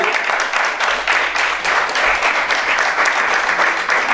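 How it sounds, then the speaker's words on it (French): A studio audience claps continuously for an actor welcomed as a guest on a Bordeaux music radio show, with even, sustained applause throughout. "on va peut-être l'applaudir"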